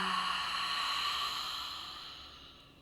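A long nasal inhale during a yoga practice, a soft airy breath sound that holds steady and slowly fades over about three seconds, close and quiet with no talking.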